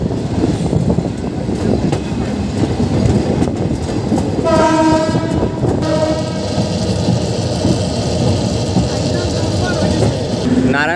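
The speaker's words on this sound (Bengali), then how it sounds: "নারায়ণগঞ্জ অভিমুখী একটি কমিউটার ট্রেন।" A commuter train bound for Narayanganj passes near Dhaka's Kamalapur station, a loud continuous rumble and clatter of wagons with a horn blast sounding midway, and voices talking over the passing train.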